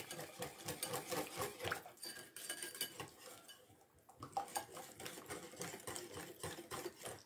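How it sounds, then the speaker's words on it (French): A whisk beats a vinaigrette in a bowl for a green salad, a rapid continuous metallic clatter of wires against the sides, close and steady, with a brief pause near the middle before the fast scraping rhythm resumes. "on fouette."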